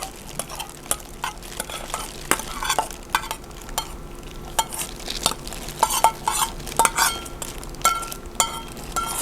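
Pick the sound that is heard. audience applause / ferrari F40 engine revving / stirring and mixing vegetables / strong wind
stirring and mixing vegetables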